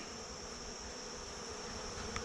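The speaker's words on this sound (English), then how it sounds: "I have all the bees run out of there" A dense, steady drone of many honey bees buzzing close by during a hive cutout, constant and unbroken with no voices.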